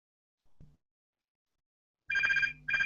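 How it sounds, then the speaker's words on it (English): A telephone rings in a quiet room, a short electronic trill sounding twice in quick succession after a faint thump, clear and close with no talk. "That's my phone going off."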